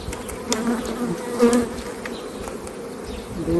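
Bees buzzing at a hive in a beehive, a dense continuous drone with individual insects passing close and fading, steady throughout.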